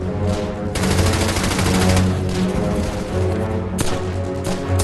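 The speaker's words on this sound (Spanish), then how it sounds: "Para evitar las ametralladoras alemanas" Machine-gun fire in a WWII battle scene, with rapid sustained bursts of close, loud automatic shots and a sharp fresh volley near the end.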